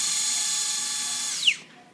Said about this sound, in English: now we're going to drill the portals